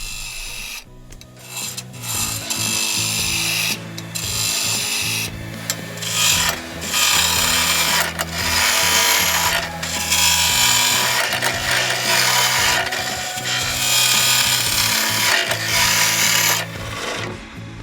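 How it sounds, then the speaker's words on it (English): A spindle roughing gouge cuts wood on a lathe while a wire burning tool is turned, making loud, close scraping and rasping bursts with brief pauses between passes and a low motor hum underneath. "Then back to the spindle rough and gouge to quickly get our shape established."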